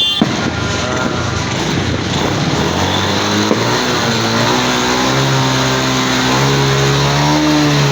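A motorcycle engine revved loudly at close range during New Year celebrations, its pitch climbing steadily in a long sustained rev, with a few sharp pops mixed in.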